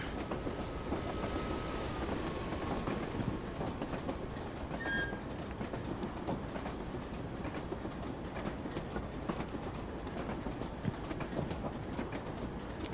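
A DMU diesel train in Train Simulator Classic runs steadily, its engine drone and rail rumble continuous and loud with faint rhythmic clatter, and a brief tone fading out early on.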